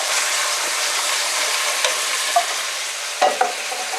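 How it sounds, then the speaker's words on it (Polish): Remaining goulash ingredients frying in an oiled pan, a close steady sizzle with a few clacks of a utensil stirring and scraping against the pan. "i przesmażę pozostałe składniki"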